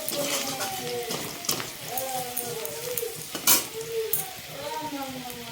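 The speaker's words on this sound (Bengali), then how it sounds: "কুচি করে রাখা আদা কুচুনো আদা দিয়ে ভালো মতো একদম হাই ফ্লেমে এটাকে ভেজে নিতে হবে" Chopped ginger and garlic fry on a high flame for restaurant-style chili chicken, giving a steady close sizzle with occasional utensil clinks while a voice talks over it.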